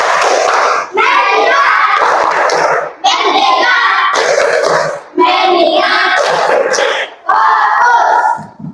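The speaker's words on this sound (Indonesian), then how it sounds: "Tepuk fokus." A class of children chants a rhythmic 'tepuk fokus' clapping call in unison, loud and close, in bursts of shouted syllables with claps separated by brief pauses.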